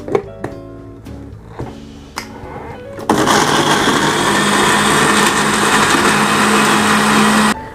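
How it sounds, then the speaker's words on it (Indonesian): An electric blender grinds shallots, garlic and roasted candlenuts with a little water into a spice paste for Javanese mie godog. A few knocks come first, then a loud steady whirring motor runs for several seconds before stopping. "Sekarang saya akan haluskan ya bumbu untuk mie godoknya"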